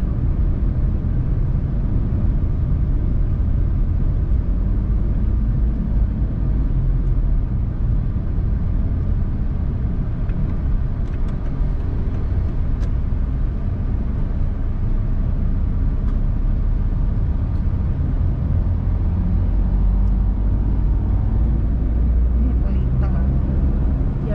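Steady interior rumble of an Asian-made car driving the road from Batam to Batu Aji, a continuous low engine and tyre drone with even road noise throughout and no breaks.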